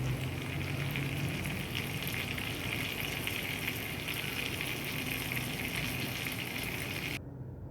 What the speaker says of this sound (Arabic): بس بعد ما يتحمروا الدجاج معانا بهذه الطريقة لازم نقلبهم على كل